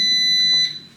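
A single steady high-pitched electronic beep from an air fryer sounds for about half a second, then cuts off into quiet room noise.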